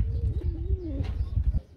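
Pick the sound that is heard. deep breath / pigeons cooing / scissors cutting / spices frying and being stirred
pigeons cooing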